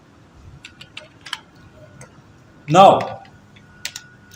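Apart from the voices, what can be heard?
typing on a computer keyboard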